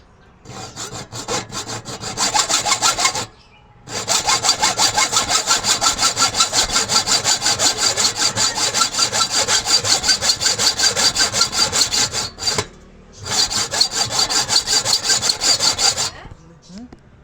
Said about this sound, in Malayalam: ഇനി അടിയിട്ടാണ് നമുക്ക് കട്ട് ചെയ്യാനുള്ളത്.